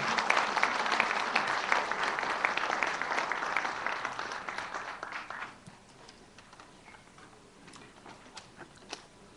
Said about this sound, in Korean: 여러분, 정 후보에게 많은 박수 부탁드립니다.